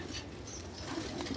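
Pigeons at a pigeon farm coo softly and flutter their wings, a faint, continuous murmur of birds with occasional flapping and no voices.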